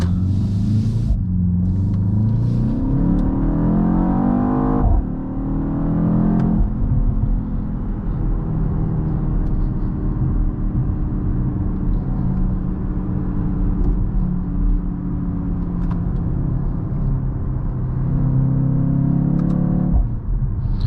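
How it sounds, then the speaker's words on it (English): Exhaust pops and bangs from a 2024 BMW X2 M35i hot hatch, played largely through the cabin speakers, over a steady loud engine rumble and road drone that rises and falls with acceleration, heard from inside the car. "all these pops and bangs you're hearing right now, believe it or not, are largely through the speakers"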